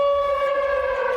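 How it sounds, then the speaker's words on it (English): A civil defense air raid siren sounding during an alert in wartime Ukraine, a loud steady wailing tone heard up close and alone. "Mehajova greets us with the sound of a siren,"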